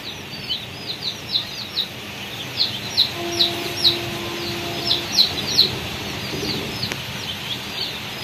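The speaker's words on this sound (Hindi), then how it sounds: "ये देसी चिक्स जी देख सकते हैं आप।" Desi chicken chicks on a village poultry farm raised on home feed, giving a steady series of high, short peeping chirps, about two per second, fairly close and clear over a quiet background.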